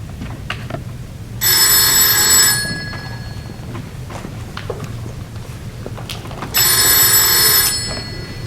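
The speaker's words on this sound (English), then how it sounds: "Ringing Murray Hill 40098." An old house telephone rings in two long bursts a few seconds apart, a bright, loud bell trill against a quiet room.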